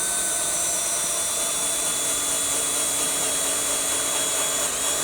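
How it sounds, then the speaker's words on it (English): A power drill bores into wood while a deck and fence are being finished in a kitchen garden. It gives a steady, continuous whir close to the microphone for the whole stretch, with no voices. "I'm drilling, I'm not screwing."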